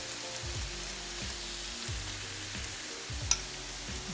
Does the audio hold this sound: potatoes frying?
yes